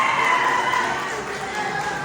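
A live show crowd applauds and cheers as Miss Janela Salvador is introduced, a continuous dense wash of clapping and shouting at a steady level.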